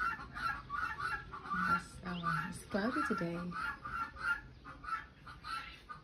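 Noisy chickens or other fowl cluck and honk outside a hostel in Carrapateira on a cloudy day, a steady chatter of calls under a person talking nearby.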